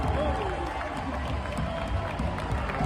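Hockey arena crowd yelling and cheering during a Winnipeg Jets game, a steady, loud wash of roaring voices with no break across the whole stretch.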